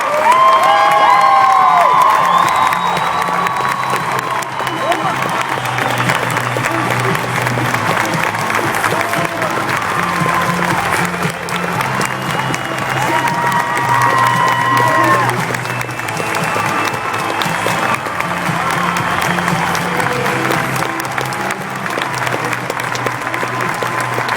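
Audience at a 2013 coach summit applauds and cheers steadily to welcome a U.S. Marine Corps captain on stage, a loud dense clapping crowd with whoops and shouts throughout, no distinct talking.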